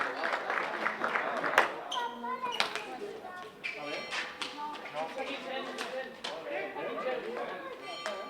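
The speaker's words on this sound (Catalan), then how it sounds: "un fort aplaudiment per ell" Spectators at a youth street pilota match during a village festival in Beniflà applaud a player, crisp scattered claps rattling beneath an announcer's voice and crowd chatter in the open street.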